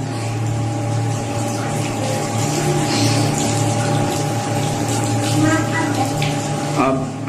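Water running steadily from a tap while an arm is washed up to the elbow for ablution, a continuous close flow with a low mechanical hum beneath it.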